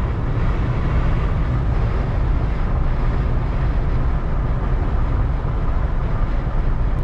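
Steady, loud cabin roar inside a Jeep Wrangler cruising at 70 mph in a 20 mph wind, a constant low rumble and broadband road and wind noise with no talking.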